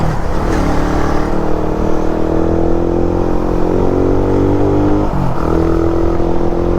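A carbureted Suzuki Raider motorcycle engine runs close by with a steady, loud buzzing drone that rises slightly in pitch as it revs, then dips briefly before settling again.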